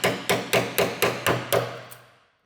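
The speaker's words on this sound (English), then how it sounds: "now I have to punch it through, but you have to be really careful because you can make a dent in the door" Hammer striking to punch a rubber seal through a DeLorean car door, seven sharp, evenly spaced blows close by, each ringing briefly before the next.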